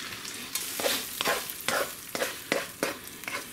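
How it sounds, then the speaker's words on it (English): Hamburger meat with its grease goes into a pan of taco mac and cheese and is stirred, giving repeated scraping strokes roughly every half second over a soft frying sizzle, close and fairly quiet. "So I'm just gonna add this hamburger meat to it."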